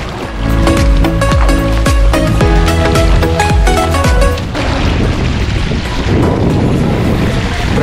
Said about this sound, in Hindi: प्रेशर तेज है पानी का